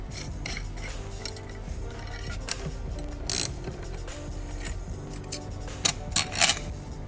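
A DND hydro handbrake being dismantled with an Allen key and a 13mm wrench, giving close metallic ratcheting, clinks and scraping of tool on metal over a steady mechanical hum, with a few sharper knocks.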